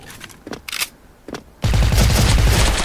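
Gunfire in the shooting video game Special Force from a suppressed white-camo AK74. A few short, separate bursts come first, then a loud, dense, continuous barrage of rapid automatic fire takes over for the rest.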